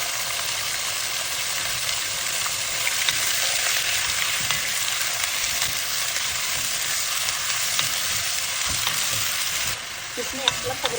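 Meat frying in hot oil for Samarkand wedding kebab, a steady dense sizzle with constant stirring and crackle throughout, close and loud, easing slightly near the end.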